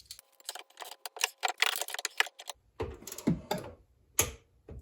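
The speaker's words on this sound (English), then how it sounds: "I'm gonna double check it and then we'll torque it up" Tightening rear shock bolts on a C6 Corvette with a torque wrench, heard as a burst of close, rapid mechanical clicks and ratcheting in the first half, followed by scattered metallic knocks and handling noises.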